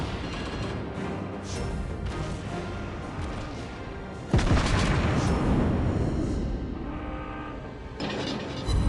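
Naval cruiser guns firing in World of Warships Blitz: a dense run of heavy booms and rumbling gunfire, with a sharp loud salvo around the middle and then a long decaying roar, close and loud throughout.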